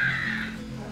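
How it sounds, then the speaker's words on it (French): A large gull (goéland) gives a single harsh, drawn-out cry, close and loud, fading away with nothing else heard behind it. "Et le second, c'est le goéland."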